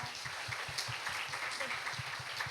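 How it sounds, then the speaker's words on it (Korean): Applause welcoming a first-time visitor at a church young adults' worship service; a steady, moderately quiet patter of many hands clapping throughout, with faint low murmuring beneath. "저희 큰 박수로 맞이해 주세요"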